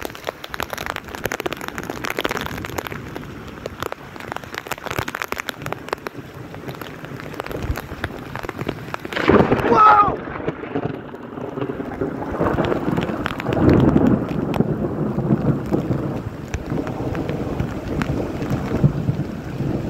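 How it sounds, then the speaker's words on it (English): Heavy rain pours down steadily outdoors in a thunderstorm with lightning close by, with a loud rumble of thunder rolling through the middle and wind buffeting the microphone throughout. "I love the rain. I love it so much."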